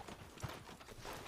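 Horse hooves clip-clop briefly on a path in Red Dead Redemption 2, a few soft, faint hits under low background noise.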